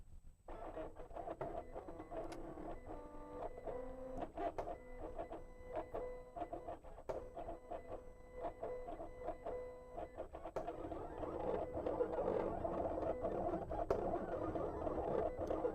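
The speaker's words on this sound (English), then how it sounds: "Now, Kayla, that Cameo sounds like a dubstep song." A Silhouette Cameo vinyl cutter slices heat transfer vinyl, its motors whirring and stepping in loud, rapid, rhythmic bursts and pulsing patterns that grow denser and louder toward the end, with no talk.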